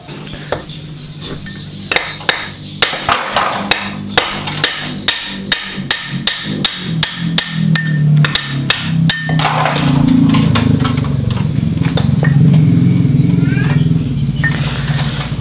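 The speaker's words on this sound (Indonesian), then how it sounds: "misal Anda punya sok-sok bekas ya, bekas tabung sok depan, nah itu juga bisa untuk mukul." An old aluminium front shock absorber tube taps on metal near the rear final drive of a Honda Vario scooter, giving a run of about a dozen sharp, ringing strikes at a quick, even pace before a louder rumbling noise swells.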